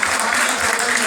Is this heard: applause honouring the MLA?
yes